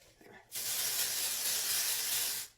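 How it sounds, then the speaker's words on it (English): A continuous, loud aerosol spray hisses for about two seconds after a brief rustle, then cuts off. "So just going to spray that in there"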